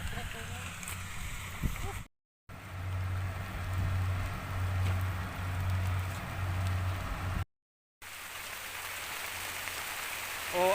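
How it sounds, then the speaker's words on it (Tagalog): Heavy rain on a farm patters and hisses on a sack sheltering the recorder, with brief interruptions, and faint talking underneath. "ang lakas na ng ulan"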